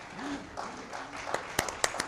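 A crowd at a business launch event attended by Yogi Adityanath applauds, scattered claps building into sharper, louder claps near the end, with a voice heard underneath.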